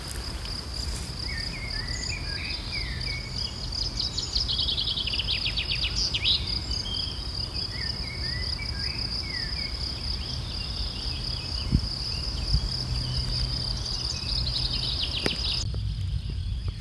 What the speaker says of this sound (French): d'écouter les oiseaux et la nature